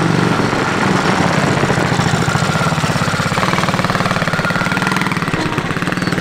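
A quad bike engine runs loud and close outdoors in Algeria, a steady rapid pulsing putter that holds throughout with no voices.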